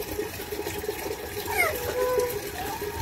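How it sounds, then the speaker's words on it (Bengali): Plates and bowls washed under running water in a Bangladeshi village kitchen, a steady close splash and trickle throughout, with voices talking over it. "তো আমি থাল বাটিতে ধুয়ে নেই"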